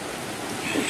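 Water in a flooded creek rushes past as a steady broadband wash, a continuous hiss with no pauses and no voices.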